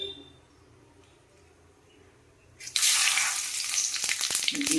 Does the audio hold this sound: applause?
no